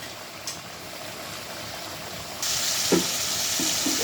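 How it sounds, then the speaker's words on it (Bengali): Small taki fish curry fries in a pan with a faint, steady sizzle that grows louder partway through, broken by a few soft stirring knocks. "ভাজা ভাজা করে নিব।"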